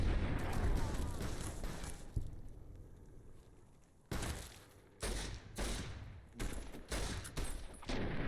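Repeated shotgun blasts in the game Fallout New Vegas, a loud volley at the start, then a lull before several separate booming shots at irregular intervals.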